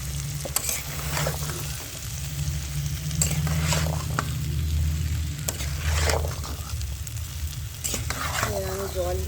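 Boiled kabuli chickpeas and potato frying in cooked-down spice masala, a steady close sizzle with repeated stirring scrapes and soft wet squelches throughout.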